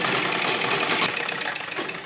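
A sewing machine runs steadily, stitching a loose basting seam along folded embroidered suit fabric, its even whirring motor sound continuous and close with no talk.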